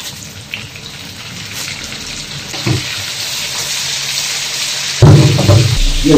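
Fish sizzles steadily in a hot wok as salt is added, a dense crackling hiss that stays even, then swells into a louder, spattering burst for the final second.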